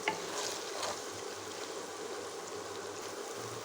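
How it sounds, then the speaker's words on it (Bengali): Boiled potatoes frying in a pan for a Bengali chhanar kofta kalia, a soft steady sizzle heard close and fairly quiet, with a couple of brief stirring scrapes near the start. "খুব বেশিক্ষণ সময় লাগবে না আমার আলুটা ভাজতে"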